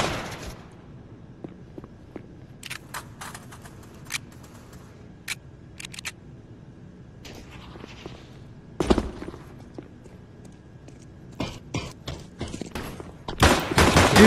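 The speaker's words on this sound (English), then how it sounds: "I guess we just put up with the symphony of gunfire now" Bursts of rapid gunfire from the video game Counter-Strike crackle intermittently over a low steady background, growing denser and louder toward the end.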